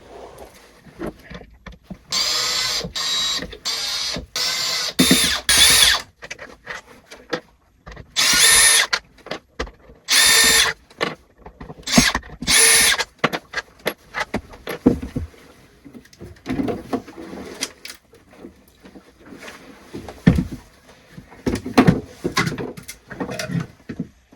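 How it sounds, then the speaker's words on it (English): A cordless power drill backing out six screws on a boat part, in repeated short whirring bursts separated by pauses with clicks and handling noises, close and loud. "I'm gonna have to open those 6 screws and see what's going on"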